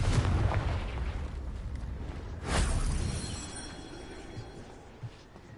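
A Confringo blast spell goes off in a fantasy video game as a deep booming explosion with a sharp burst partway through, followed by a rumbling tail that fades away.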